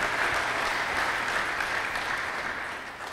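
Congregation at a church service applauding together, a dense, steady wash of clapping that holds at full level for about three seconds with no talk over it.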